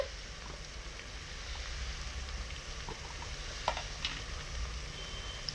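Small shallots sauté with ginger-garlic paste in a pan, giving a steady, soft, low sizzle throughout, with a few faint clicks of a utensil.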